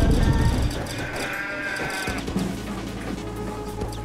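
Sheep bleat in the video game Deeeer Simulator, a loud wavering cry at the start that fades into a steady background hum.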